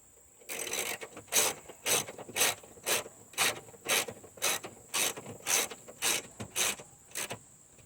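Mustang driver's door window regulator bracket being hand-cranked inside the door during motor repair, giving about twelve evenly spaced ratcheting mechanical pulses at a steady rhythm, close and fairly loud with no talk.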